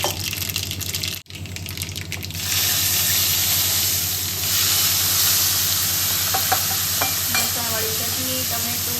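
Boiled dal pours into a hot tempering in a pan, a brief liquid splash giving way to a loud, sustained sizzle and bubbling, with light utensil clinks toward the end.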